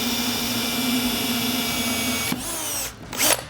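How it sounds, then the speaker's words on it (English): A power drill runs steadily while boring holes into a 3D printed concrete speaker enclosure, holding a constant whine for over two seconds before stopping, then a short burst of renewed drilling near the end. "So the next step is I need to drill some holes for the speaker."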